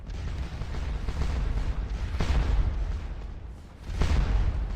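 Allied cannon bombardment in the Napoleonic battle game Scourge of War Waterloo, with distant booming artillery rolling under a continuous rumble and two sharper blasts standing out partway through.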